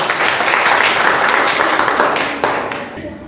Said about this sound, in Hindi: चलिए ताली बजा दीजिए।